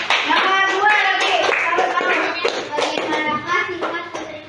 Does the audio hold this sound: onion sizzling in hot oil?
no